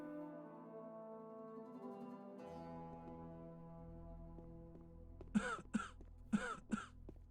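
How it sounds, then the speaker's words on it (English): A game character in Chronicles of Myrtana: Archolos coughs in a few sharp, close bursts near the end, following a low droning ambient hum. "Okay, well that was a cough."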